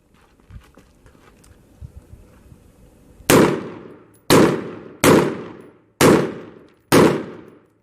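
Five loud, sharp gunshots fired from a kneeling position at the 50-yard line on a shooting range, spaced about a second apart after a quieter stretch of faint handling noise.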